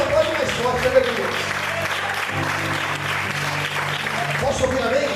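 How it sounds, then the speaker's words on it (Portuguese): Stronger applause from a church congregation, a dense ongoing clatter of many hands with voices calling out and a held musical tone underneath, filling the space for several seconds. "Não, se é para Deus, aplaude mais forte."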